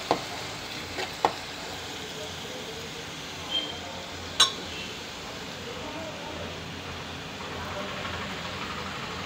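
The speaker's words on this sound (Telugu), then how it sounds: "వేగిపోతున్నాయి కదా" Oil frying in a pan while cooking mutton curry, a steady faint sizzle throughout with a few brief clicks and taps of utensils.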